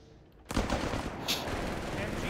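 Machine guns fire in the strategy video game Company of Heroes 3, a sudden burst of rapid gunfire that cuts in about halfway and keeps rattling to the end, heard from a distance and fairly faint.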